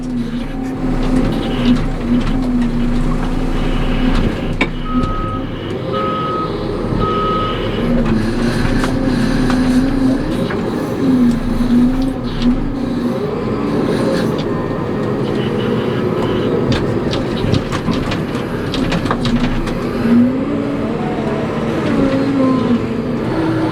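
A teleloader runs with a steady, droning engine that rumbles throughout while it booms gravel out. There are some faint knocks and scrapes from the work, and no voices.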